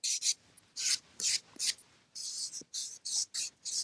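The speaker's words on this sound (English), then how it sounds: "we're just going to sand this so it doesn't look like we just chopped off of the" Wood is sanded by hand in quick, repeated rasping strokes, about a dozen short bursts in an irregular rhythm, close and fairly quiet.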